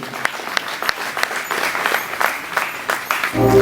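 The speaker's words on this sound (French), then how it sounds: "Ça mérite plus d'ovation, mesdames, messieurs." A press-conference audience at the Goethe Institut breaks into steady applause, a dense patter of many hands clapping throughout, ending in a louder swell.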